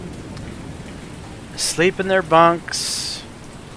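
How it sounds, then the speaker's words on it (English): Rain falls steadily at night on the sea in the naval video game War on the Sea, a constant soft hiss running throughout while someone speaks briefly over it. "Horrible rainy night."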